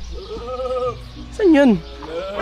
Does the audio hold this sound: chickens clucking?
no